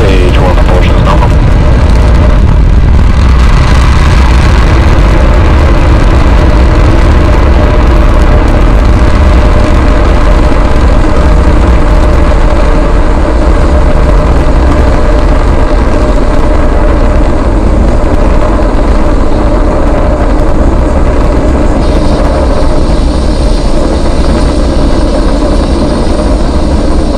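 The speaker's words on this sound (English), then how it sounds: "Liftoff of the 22nd SpaceX cargo resupply mission, bringing new solar arrays to the International Space Station" A SpaceX Falcon rocket lifting off on the CRS-22 cargo resupply mission to the International Space Station, its engines a loud, steady, heavy roar that fills the whole stretch without letting up.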